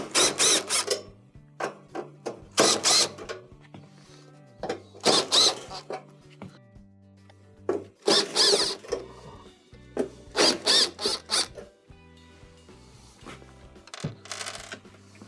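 Screws being removed from a Samsung stove console panel, with repeated bursts of metallic rattling and scraping separated by short pauses, close and fairly loud.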